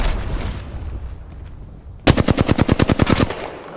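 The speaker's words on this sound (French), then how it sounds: "Je me fais tirer dessus." Apex Legends gameplay in which an automatic weapon fires a rapid, loud burst of about a dozen evenly spaced shots, following a quieter stretch of muffled game ambience.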